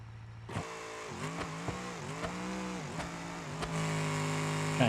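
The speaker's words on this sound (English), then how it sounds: "Just blew through the converter and over revved it to death" A truck engine on nitrous in the BeamNG driving game, revving hard and over-revving in repeated rising and falling bursts, loud and close, ending in a sustained high-pitched roar.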